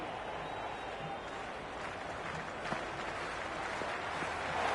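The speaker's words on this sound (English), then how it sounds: "all these spectators here today are completely enthralled and energised, judging by that noise anyway" Steady, continuous crowd applause and cheering in the Cricket 26 video game rolls on throughout, a dense wash of clapping from a large audience.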